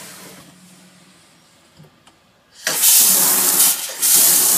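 Water from the shower in a Jayco RV trailer being winterized comes on with a sudden loud hissing spray after quiet room noise, runs strongly, briefly dips, and resumes.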